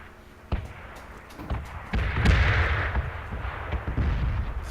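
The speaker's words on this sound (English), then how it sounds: "Here, the bomb's falling. The bomb falls on you," Bombs from a red-zone airstrike in PUBG fall and burst around the player, a series of heavy booms and thuds starting near the half-second mark, rumbling close and loud with a sustained roar in between.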